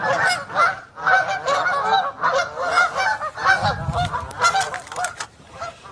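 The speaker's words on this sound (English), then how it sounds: "Look at all these ducks. Geese, ducks, same thing, same thing." A flock of geese on a bay in the morning, honking loudly and close by, calls overlapping in a busy, continuous chorus with short gaps between bursts.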